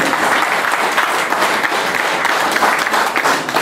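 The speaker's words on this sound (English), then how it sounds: "I request another round of applause." Loud, sustained crowd applause at a district official's retirement handover ceremony in Mukono, many people clapping together in a thick, even roar without pauses or talk.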